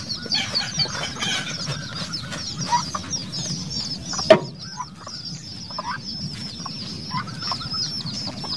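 Native chickens clucking steadily around a brood of newly hatched chicks, with soft overlapping calls and a brief flutter of wings, close by and continuous throughout.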